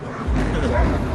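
A single short dog bark, close and fairly loud, over a brief murmur of background voices outside a church setting in Brownsville, Tennessee.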